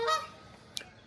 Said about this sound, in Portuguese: o ganso canadense tá ali, ó, só gritando